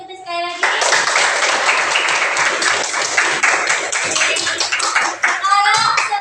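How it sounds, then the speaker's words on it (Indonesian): A classroom of students claps for one another after a presentation, a brief voice first, then dense, fast clapping that runs steadily for several seconds, close and loud, with a few voices rising near the end. "Tepuk tangan untuk kita sekali lagi."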